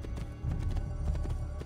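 Horse hooves in the video game Assassin's Creed II, a quick rhythmic clip-clop of galloping that runs steadily over a low rumble of game sound.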